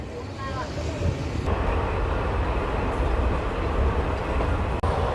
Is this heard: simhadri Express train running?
yes